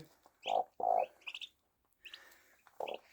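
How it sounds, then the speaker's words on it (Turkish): Turkey chicks chirp in short bursts, a few clear peeping calls close by with brief pauses between them and no talking. "Bunlar tavuğun altında hindi yavruları."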